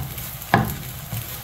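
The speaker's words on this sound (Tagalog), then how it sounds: "Haluin natin para kumalat yung kanyang flavoring ng vanilla." Thick ube halaya, a purple yam dessert flavoured with vanilla, stirred in a pan: one brief scraping knock of the spoon over a low steady hiss, close and quiet, no talking.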